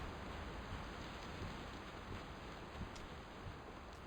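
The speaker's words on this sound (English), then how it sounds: "It's pouring so hard by you, it's in sheets of rain" Heavy rain pouring in sheets in PalWorld, a faint, even wash of hiss that holds steady throughout with no talking.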